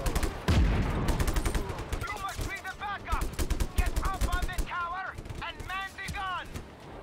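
Rapid bursts of gunfire from the Just Cause 3 video game crackle throughout, with automatic fire and scattered shots over a rumbling background, while a voice speaks intermittently in between.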